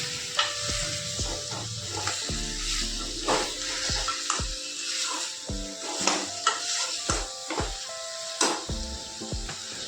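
Country chicken curry meat stirred and frying in spice masala in a pan, with steady sizzling broken by repeated scraping stir strokes and clinks, close and fairly loud, no talking.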